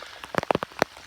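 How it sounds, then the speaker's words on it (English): Rain falls hard on a farm and lands as a quick scatter of distinct drops tapping on surfaces nearby, with some louder individual splats among them. "it's raining harder now"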